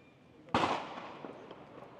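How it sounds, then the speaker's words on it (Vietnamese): Firecrackers set off near border marker 102 on the Vietnam–China border: one sudden loud bang with a long ringing decay, then a few fainter pops further off, with no talking. "Bên này thì mọi người đang đốt pháo ầm ầm."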